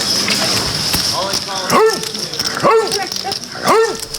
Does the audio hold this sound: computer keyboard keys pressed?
no